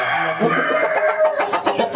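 Sindhi Aseel chickens, a rooster and a hen, clucking and calling in a farm shed, close and fairly loud over about two seconds of busy, overlapping sounds.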